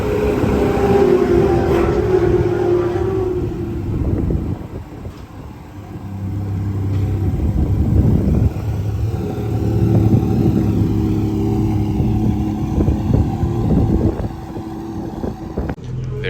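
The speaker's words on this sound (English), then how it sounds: "Tim's gonna pull out the car and bring it over to the front for me" A Porsche 718 Cayman GT4 RS is driven out and brought around, its engine droning and swelling at a moderate distance beneath heavy wind buffeting on the microphone.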